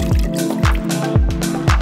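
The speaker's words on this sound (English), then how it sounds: "Pour some red wine on top." Red wine glugs and splashes into a pan of meat on the stove in a few quick pulses, close and fairly loud, with a wet dripping quality.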